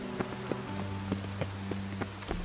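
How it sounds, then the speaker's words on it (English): Rain falling in The Witcher 3, a steady patter with scattered sharper drops against a low continuous hum, heard alone with no talking. "It's raining, of course it's going to be dumb."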